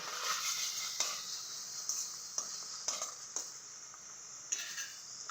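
Masala stirred into softening tomatoes in a pan for tomato capsicum poha, with a quiet sizzle and repeated sharp clicks of a spoon against the pan, close and without talk.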